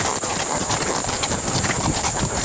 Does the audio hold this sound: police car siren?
no